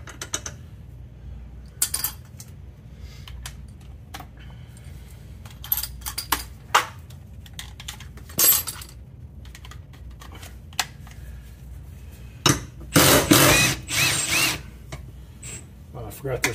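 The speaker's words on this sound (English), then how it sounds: "Let's take that bolt out right there." Hand tools work on a torque arm mount bolt of a third-generation LS-swapped Camaro, with scattered sharp metallic clicks and ratchet clatter over a low hum, plus a longer burst of wrenching near the end.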